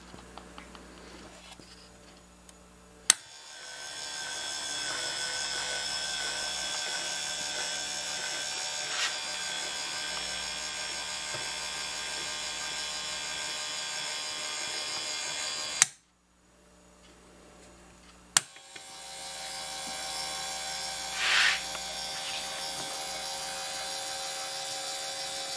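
A homemade motorized scissor lift for a watch cleaning machine runs with a steady electric motor whine and hum, stopping briefly partway before starting again, with a few clicks at the switch-over points.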